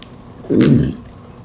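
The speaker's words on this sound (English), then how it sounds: "I burped twice." A single short, low burp, close and fairly loud, with quiet around it.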